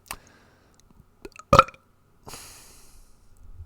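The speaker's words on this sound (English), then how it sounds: "that's my burping issue" A person with stomach trouble lets out a single short, close burp after a few faint mouth sounds, followed by low background noise.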